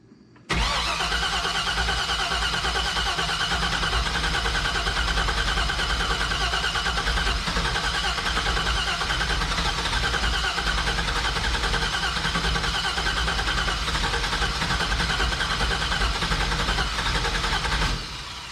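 An LS-swapped 1985 Chevrolet crew cab dually fires up after a brief crank and settles into a loud, steady idle that runs close and continuous for the rest of the clip.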